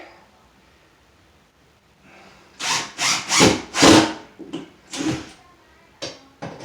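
An impact driver whirs in several short, loud bursts, pausing briefly between them as drywall screws are driven, with a faint rattle at the end.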